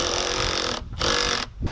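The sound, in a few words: power drill drilling wooden leg pieces together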